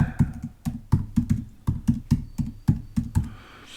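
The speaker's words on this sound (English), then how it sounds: "let me just type something in here instead of generate it" Rapid, steady typing on a computer keyboard, close and fairly loud, with evenly spaced clusters of key clacks running throughout and no voices.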